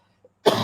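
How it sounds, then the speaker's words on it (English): A single sharp cough bursts out close and loud after near silence, followed by a rough, sustained throaty rasp that carries to the end. "This cough don't want to leave me alone"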